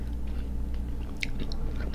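Close chewing and biting on a crunchy homemade pickle, soft wet crunches and a few sharp bites over a low background hum, with no talk.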